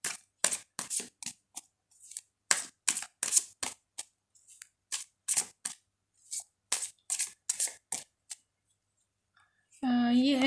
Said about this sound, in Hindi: तो कार्ड्स हम शफल कर लें।